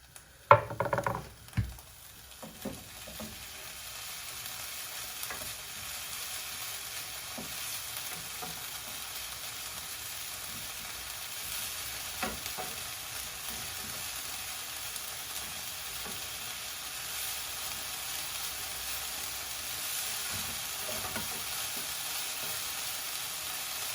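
Food sizzles and spits steadily in a hot pan while pork dumplings in broth are cooked, with a few louder knocks and stirring clatters at the start before the frying settles into a constant hiss.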